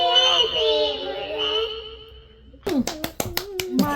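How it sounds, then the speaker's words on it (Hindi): Several sharp hand claps in quick irregular succession from a judge at a home New Year singing and dance celebration, following a stretch of sung or drawn-out vocals. "जज की ताली मारने का स्टाइल देखो।"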